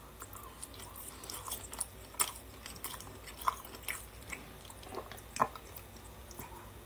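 Someone chews pigs in blankets close to the microphone, producing soft, irregular crunchy and wet mouth sounds with a few sharper bites, quiet against a faint low hum.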